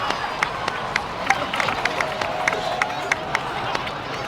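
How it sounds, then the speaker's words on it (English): Scattered clapping and light crowd noise in the video game Genshin Impact, with sharp hand claps popping out at irregular intervals, over a steady murmur and a faint musical tone. "please give another round of applause for them"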